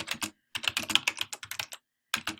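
Typing on a computer keyboard: two quick bursts of close, crisp key clicks separated by short pauses, loud and alone with no talk.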